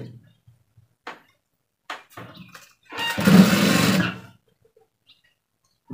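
A sewing machine runs one steady burst of about a second, stitching along the edge of a shirt collar, close by, with brief clicks and handling noises before it.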